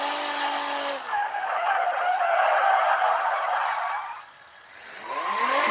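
A car in the BeamNG.drive driving game skids with a long, loud tire screech and engine whine, the sound dipping briefly before a second squeal rises at the end, with no talking.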